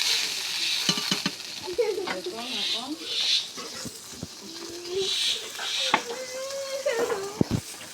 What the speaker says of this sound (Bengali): এই রসুন তেলে ফুটে উঠে